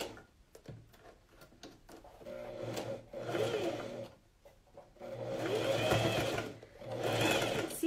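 A sewing machine stitching a coat collar, running in several close bursts with short pauses between them, its whirring needle action rising and falling, with no clear speech.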